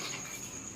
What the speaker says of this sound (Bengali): আর ব্যাকগ্রাউন্ডে যে আওয়াজটা শুনতে পাচ্ছ এটা হচ্ছে ঝিঝি পোকার ডাক